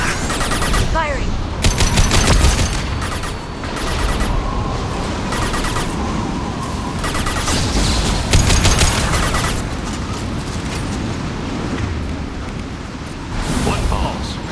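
Rapid automatic gunfire and bursts of shooting from a Mass Effect II firefight, loud and dense, with repeated volleys over a busy battle backdrop and voices heard amid the shots.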